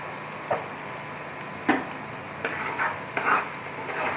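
Beef being stirred with spices in a pot for pulao, producing a few scattered scraping and clinking strokes over a faint background sizzle, with no talking.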